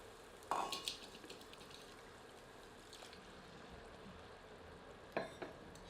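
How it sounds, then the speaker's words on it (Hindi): Green chickpea paste drops into softened, cooking tomatoes and is stirred in, a soft sizzle and wet churning broken by a few sharp clinks of the spoon near the start and end, with no voices. "अब समय है इसमें हरे चनों का पेस्ट सम्मिलित"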